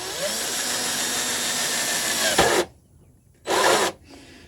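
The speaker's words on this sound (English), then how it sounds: "Okay, so hole saw." A power drill drives a hole saw into a mould, a loud continuous grinding whine that stops abruptly, then a second short burst of cutting, with no voices.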